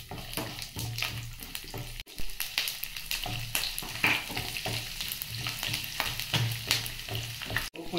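Shallots fry with tempering spices in hot oil for Andhra gongura pickle, a close crackling sizzle with frequent, uneven stirring scrapes and clatter against the pan.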